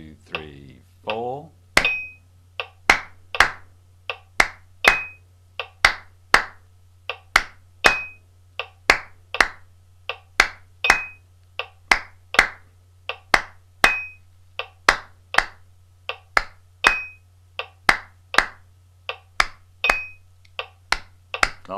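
Sharp hand claps repeat in a steady looped rhythm during a Bb major music warm-up, close and distinct over a constant low hum, with a few counted words at the very start.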